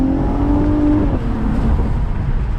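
A Cadillac ATS-V engine revs steadily and loudly from inside the car in manual mode, a close, sustained growl with a brief rising pitch before settling into a continuous drone.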